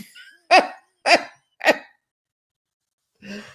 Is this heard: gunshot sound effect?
no